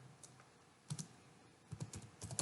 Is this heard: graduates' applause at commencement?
no